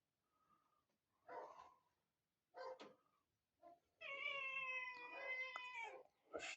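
A pet cat meows several times close by in a quiet room, with short separate cries and then a long drawn-out plaintive meow near the end; no talking.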